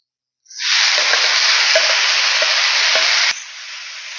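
Squid (kallan kanava) tipped into a pan of spiced masala bursts into a loud, steady sizzle that holds for about three seconds, with a few light clinks of a utensil, then drops to a softer hiss.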